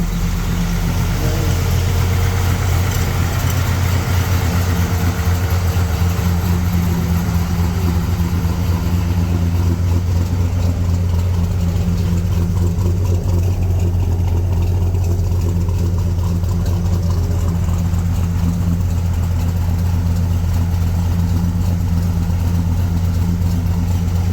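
A 1965 Chevrolet Impala engine idles steadily and loudly for the whole stretch, a deep, even rumble that never varies, with no voices over it.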